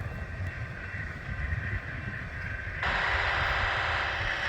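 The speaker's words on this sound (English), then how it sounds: "Well, there he goes," An Amtrak passenger train passes on the line as a steady broadband rumble and rush, which brightens and grows louder partway through as the cars go by close at hand.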